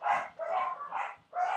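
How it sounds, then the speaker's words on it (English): Dogs bark in a morning home setting, with about three or four mid-pitched barks and yips in quick succession, fairly faint and somewhat distant, with no talk over them. "the dogs say good morning to you as well, if you can hear that"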